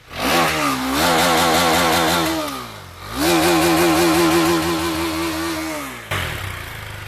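A KTM Duke 390 motorcycle engine revs hard twice from idle, each blip climbing and holding high before dropping back, loud and close, with a settled idle at the end and no talking.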